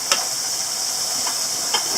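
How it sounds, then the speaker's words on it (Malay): Chili paste for sambal tumis fries in a pan over moderate heat, giving a steady, close sizzling hiss with a few faint pops and spatters. "Ya, digaring sekejap bagi cili tu masak."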